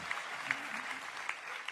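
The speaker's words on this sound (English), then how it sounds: "And a big hand clap goes there." Applause from an audience comes as a steady wash of many hands clapping, faint and distant, lasting throughout without a break.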